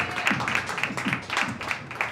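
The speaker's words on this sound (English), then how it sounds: "please give a warm round of applause for our first guest" A talk-show studio audience gives warm, rhythmic applause as the first guest is brought on, a steady crowd of claps with a regular pulse, fairly close and lively, with some voices mixed underneath.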